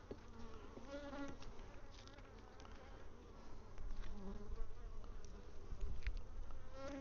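Honey bees buzzing inside a measuring cup filled with about half a cup of bees during hive mite washing, a steady close-up drone that rises and falls in intensity, with no talking.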